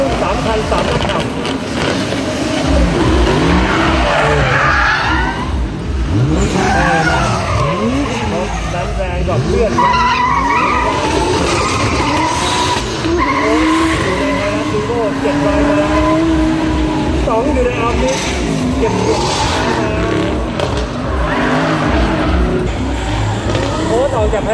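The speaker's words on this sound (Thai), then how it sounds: "รอบซิงโครไนซ์ครับเริ่มทำการดริฟต์ด้วยกันแล้วครับ3รุ่น3คัน3ระดับ" Three Toyota Gazoo Racing cars drift together at a motorsport event, their tires skidding and squealing continuously over loud engine roar, while an announcer talks throughout.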